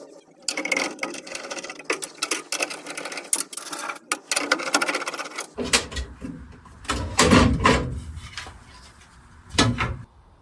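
A 1/4 inch nut driver backing screws out of a panel on a Lennox G61 furnace, with ratcheting, grinding metal scrapes and clicks, close by and intermittent, then louder rattling handling of the panel.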